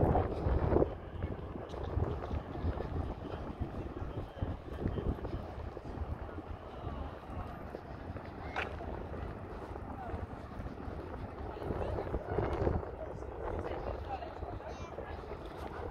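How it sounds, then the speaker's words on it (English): Wind buffets the microphone outdoors on a rooftop in Gamla Stan, Stockholm, a steady low rumble with gusts throughout, while a boat-like drone and background noise sit underneath. "A bit windy, so I hope you can hear me."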